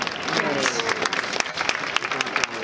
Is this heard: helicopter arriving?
no